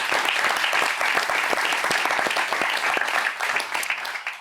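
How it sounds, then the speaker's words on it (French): Audience applause at an innovation trophies awards ceremony, a dense, sustained burst of clapping from a large crowd filling the room, steady throughout and tapering slightly at the end. "Raphaël Laverne, on peut vous applaudir."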